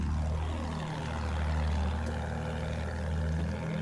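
Propeller plane engine in the Battlefield 1 game, a steady loud droning hum with strong low tones that holds across the whole stretch, with a few shifting pitch sweeps as the aircraft maneuvers.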